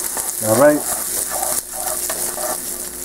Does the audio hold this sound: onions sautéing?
yes